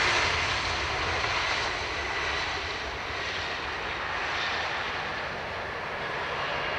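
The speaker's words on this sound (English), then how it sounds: "reversers were open but no thrust applied compared to the other ones we've heard in the last little while" A jet lands with its thrust reversers deployed but no reverse thrust applied, giving a steady, moderate broadband rush of engine and air noise that fades slightly and carries no voices.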